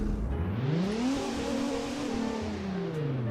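A Renault car engine in the Greenville video game revs up and holds, a loud, steady rising-and-falling drone with a slight squeal edge, close and alone with no talking.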